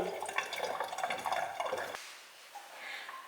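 Water rushes and gurgles down a sink drain, loud at first, then cutting off to a softer trickle and quiet draining.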